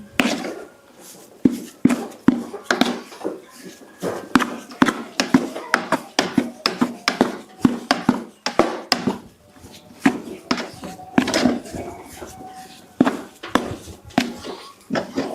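Rapid irregular scraping and tapping of a spoon against a kadai as a herbal medicine mixture is stirred, loud clattering strokes repeated throughout with faint background voices.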